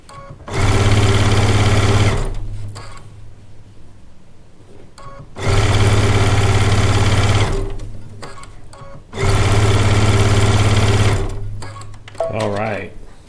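A sewing machine stitches a modified nine-patch quilt block made from charm-pack squares in three loud, steady whirring bursts of about two seconds each. Quieter pauses fall between the bursts, and a short fabric rustle comes at the end.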